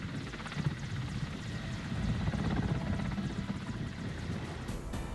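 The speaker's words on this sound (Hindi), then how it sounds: "इस एक्सरसाइज में कई सैन्य हेलीकॉप्टर्स की मदद ली गई" Military helicopters flying during a joint India–Malaysia army exercise, a steady low rotor thrum and engine roar held at a fairly even loudness throughout, with no voices.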